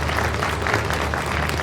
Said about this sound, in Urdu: اپنے لیے ایک دفعہ پھر تالیاں بجا دیں